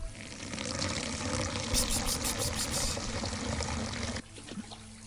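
Water pours steadily from a tap in a laundry-themed video game, a continuous broad rushing that cuts off abruptly near the end, leaving a quieter background.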